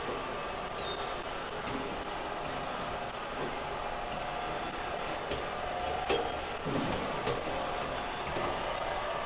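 After reversing direction, a Rietz RS-10 industrial vacuum pedal blender on three-phase power keeps up a steady, loud mechanical drone with faint rattles and knocks, and no one speaks.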